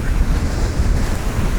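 Choppy open ocean with decent swells heard while riding an eFoil, a loud, constant roar of surf and water mixed with heavy wind buffeting the microphone, dense and unbroken throughout.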